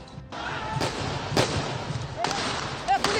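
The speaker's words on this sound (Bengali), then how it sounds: "গুলি গুলি গুলি ফুটাচ্ছে পুলিশ।" Police firing gunshots during street unrest in Bangladesh: two or three sharp, loud cracks ring out over a constant roar of crowd noise, with a couple of fainter bangs later.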